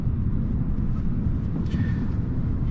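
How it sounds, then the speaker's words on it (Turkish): Inside a Peugeot 2008 1.2 PureTech on the move, a steady, dense low rumble of tire and road noise fills the cabin without a break, with no talking over it. "Yol sesi olarak evet lastik sesi araç alıyor."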